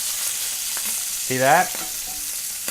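Seared sea scallops sizzle steadily in a hot frying pan just after being flipped, a continuous close hiss of frying with a brief spoken remark over it.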